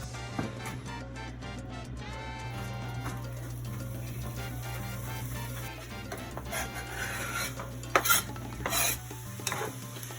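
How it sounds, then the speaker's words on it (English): Red onions cooking in olive oil in a cast iron pan, giving a steady low sizzle with stirring and scraping throughout and a few louder clatters near the end; a constant low hum runs underneath. "You're gonna let this cook until the red onions are a bit translucent."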